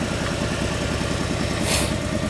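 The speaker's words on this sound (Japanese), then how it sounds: "エンジンかけました" Motorcycle engine idling after being started, a steady low rhythmic chugging that holds close and fairly loud throughout, with a brief hiss partway through.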